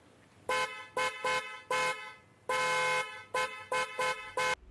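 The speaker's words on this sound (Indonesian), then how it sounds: "klaksonnya itu bunyi sendiri terus-terusan." A motorcycle horn honks over and over in short beeps, one longer blast in the middle, loud and close against a quiet background.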